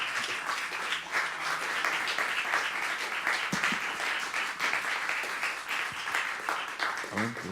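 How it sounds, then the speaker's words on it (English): Audience applause following a live performance of a suite for septet, steady dense clapping throughout with some cheering and voices mixed in. "Clap for Hayden."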